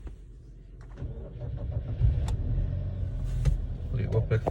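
A 2012 Hyundai Sonata engine, started on a jump, cranks and catches into a low idling rumble close by, with faint voices and small clicks around it.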